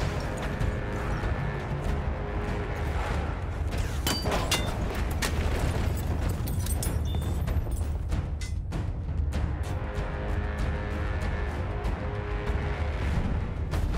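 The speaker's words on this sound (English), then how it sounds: "Enemy coordinates have been sent to our artillery." Continuous rumbling booms from a video game artillery strike roll on without pause, dense and heavy, with scattered sharper cracks and crashes in the middle of the barrage.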